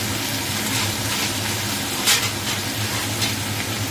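Ridge gourd shukto being stirred in a hot pan, a steady soft sizzle with faint scraping strokes of the spoon and a brief louder hiss partway through, close and alone.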